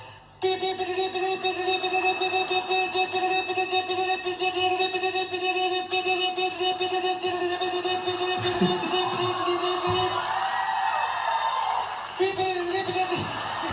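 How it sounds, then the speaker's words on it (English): A live comedy club audience at a Ron White stand-up show cheers and whoops almost continuously, a dense crowd roar holding steady for the whole stretch with a couple of brief dips near the end. "they be cheering for nothing"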